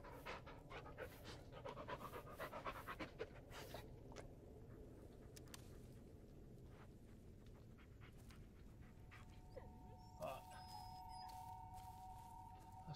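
A dog panting in the horror video game Blair Witch, rapid rhythmic breaths close by with light pattering and rustling, and a faint sustained tone near the end.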